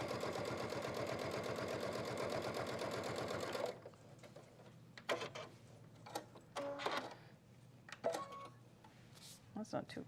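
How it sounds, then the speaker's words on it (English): A sewing machine runs fast and loud while top stitching the handle of a Kimberbell project, then stops, leaving people talking with scattered light clatter. "So we've got our top stitching on the handle."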